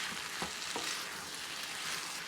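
Pork shoulder strips with Chinese five-spice, garlic and cornflour sizzle steadily in a stir fry with egg noodles, a close, continuous frying hiss broken by a couple of soft stirring knocks.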